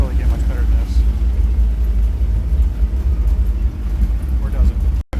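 A 1957 BMW Isetta with slider windows drives on a summer day in Portland, Oregon, its small engine giving a steady low rumble and road hum from inside the cabin, with a brief dropout near the end.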